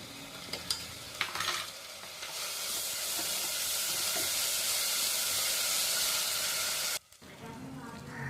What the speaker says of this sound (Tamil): இப்போ இதோட 1 table spoon ginger garlic paste போட்டுட்டு நல்லா வதக்கிடுவோம்